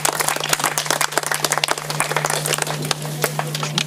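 Outdoor crowd at the Sárospatak siege-weekend historical reenactment applauding, dense and lively clapping from many spectators, fairly close, with a steady low hum underneath and no talk.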